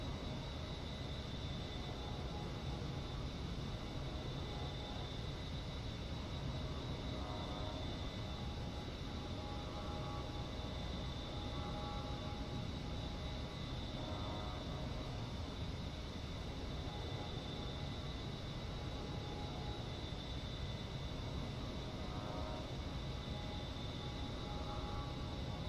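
A jet aircraft engine in a flight simulator roars as a steady, even drone during a climbing instrument departure at 200 knots, quiet and unbroken with no voices over it.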